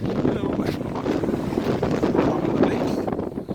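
Steady wind buffets the microphone, a continuous low roar and rumble filling the whole stretch outdoors.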